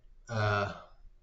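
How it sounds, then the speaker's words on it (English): A single long, loud, voiced burp rising abruptly, holding steady for about half a second with a deep resonant tone, then trailing off alone with no talk. "That was a special burp."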